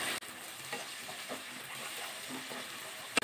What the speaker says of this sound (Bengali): দিয়ে ভালো করে মশলাটা কষিয়ে নিতে হবে